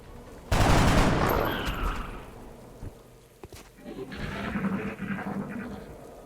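Gunfire from a soldier's weapon in the video game XCOM: Enemy Within: a sudden loud burst of shots that rings on and fades, followed by a sharp single crack and then a lower rumbling tail.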